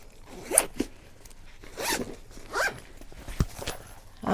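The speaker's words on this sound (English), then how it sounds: "I'm going to go ahead and zip this up" A zipper on a travel bag packed for a Carnival Sunrise cruise is pulled closed in several short, rasping strokes with pauses between them, close and fairly loud, with soft handling noises in between.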